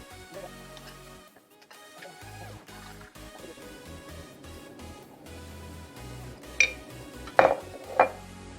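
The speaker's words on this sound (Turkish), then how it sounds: "bir buçuk tatlı kaşığı şeker ekliyorum ve karıştırıyorum" A metal spoon stirs sugar into Turkish coffee, giving soft scattered clinks and scrapes that end in a few sharp, bright taps against the cup, close and quiet with no talking.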